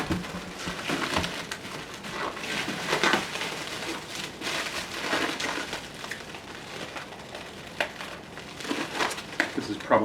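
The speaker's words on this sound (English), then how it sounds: "a lot of packaging, a lot of padding, and then I get to unwrap it." Crinkling and rustling of padded packaging being unwrapped from a Gately Audio 6.5-inch subwoofer box, steady close-up crumpling with occasional louder crackles throughout.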